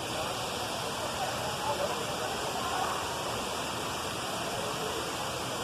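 A Costa Rican jungle waterfall roars with a steady, dense rush of falling water, continuous and enveloping without pause.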